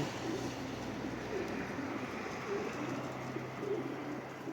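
Soft, rhythmic pigeon cooing repeats every second or so, somewhat distant beneath a constant outdoor hiss.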